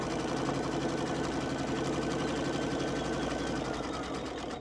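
A sewing machine stitches a quilt seam at a 5 mm width and 2 mm length setting, a fast, even mechanical whir running continuously and close up, loud and alone before stopping abruptly at the end.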